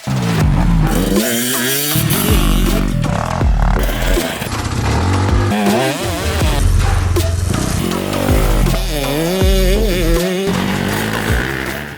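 A motorcycle engine roars continuously on a racetrack, revving up and down as the bike rides hard through turns, loud and close throughout.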